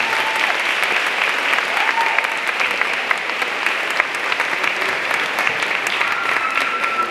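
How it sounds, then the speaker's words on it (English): An audience at a school's 8th grade moving-up ceremony claps in a sustained round of applause, dense and even across the whole stretch, heard from within the crowd. "Let's give them a well-deserved round of applause."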